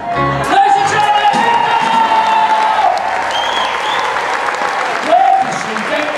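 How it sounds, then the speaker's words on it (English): An audience at a live show claps and cheers loudly and continuously while a person talks over it and sustained tones sound through. "Come on, give it an applause."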